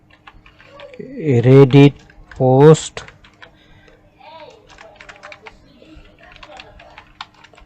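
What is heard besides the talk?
typing text on a computer keyboard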